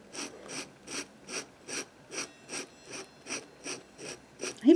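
A dip pen scratches across paper while sketching, making about a dozen evenly spaced, raspy strokes in a steady rhythm, close and fairly quiet with no talking.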